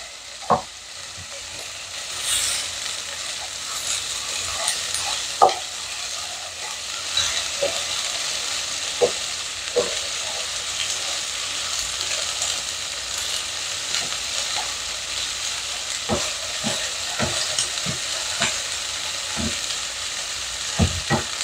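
Pork belly browns in a pan, braised later with five-spice, and gives off a continuous close sizzle with frequent sharp pops and spatters scattered throughout, with no one speaking.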